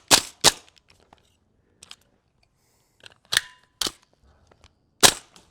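Gas airsoft pistol firing single shots, sharp loud cracks in irregular pairs and singles separated by quiet pauses, each with a short mechanical clack.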